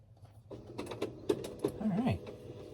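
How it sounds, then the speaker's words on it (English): A printer runs nearby in a home shipping setup, giving off a series of irregular mechanical clicks and creaks, some louder than others, with a short whirring squeal near the end. "the printer's delaying itself"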